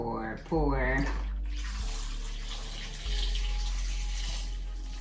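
Chicken stock pours into an Instant Pot for beef stew, a steady close liquid rush that starts after a brief spoken phrase and continues evenly to the end.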